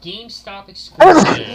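A person sneezes sharply and loudly, one burst right after someone speaks, during a relaxed Christmas Eve game session.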